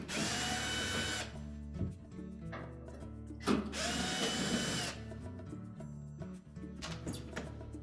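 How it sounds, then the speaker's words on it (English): A power drill or driver backs two screws out of the top panel of a Whirlpool washer, giving several short whirring bursts separated by pauses and small clicks, close by and alone without talk. "So next we'll remove those 2 screws."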